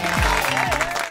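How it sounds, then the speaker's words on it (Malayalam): Applause from an audience, a brief burst of close, loud clapping with voices mixed in. "ആദ്യമായിട്ട് അവരിങ്ങനെ ആത്മാർത്ഥമായിട്ട് കൈയടിക്കുന്നത്."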